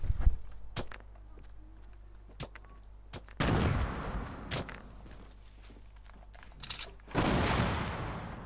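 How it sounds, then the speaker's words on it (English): Gunfire in the Fortnite battle royale game: scattered sharp shots and clicks, some distant, with two bursts of louder, dense noise, one midway and one near the end. "He's shooting at me."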